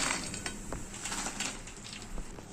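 Crispy deep-fried soya chunk pakodi is dropped onto a plate, giving a series of light clinks and soft rattling taps against the dish, fairly close and quiet with no talking.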